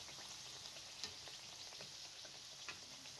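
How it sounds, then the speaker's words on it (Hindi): Rolled puri frying in very hot oil inside a kadai gives a steady, bright sizzle with scattered crackles and small pops, close by and quiet, with no voices. "अब कढ़ाई के अंदर तेज़ गर्म ऑयल में इसको फ्राई कर लें।"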